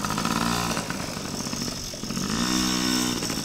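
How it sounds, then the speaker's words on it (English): A small two-cycle engine on a ride-on vehicle buzzes loudly and close, its pitch rising and falling as the throttle changes, with a brief dip midway before it revs again. "based on the sound of that little two-cycle engine, you're going to have a lot of ruts"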